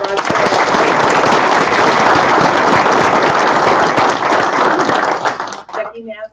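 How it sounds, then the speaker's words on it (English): An audience at a school district board meeting bursts into loud, sustained clapping that holds steady for about five seconds before tapering off, with a brief voice at the very end. "So applause for"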